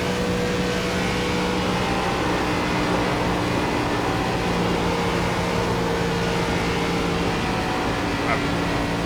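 ARCA race car engine droning steadily in iRacing at Michigan, a constant loud hum with no breaks, with a voice faintly present beneath it.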